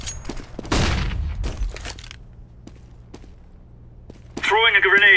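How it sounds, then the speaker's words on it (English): A flashbang grenade thrown in a first-person shooter game, with a sharp burst and clatter followed by scattered footsteps and small impacts, then a high ringing tone toward the end. "Throwing a flashbang."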